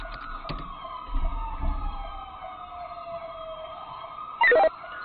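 A police siren wails in a video game set around Los Angeles first responders with a Ventura County Sheriff unit, a long gliding tone sweeping slowly downward, with low rumbles and a brief sharp electronic blip near the end.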